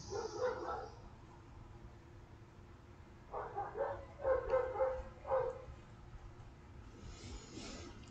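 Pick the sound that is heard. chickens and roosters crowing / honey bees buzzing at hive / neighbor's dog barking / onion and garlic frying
neighbor's dog barking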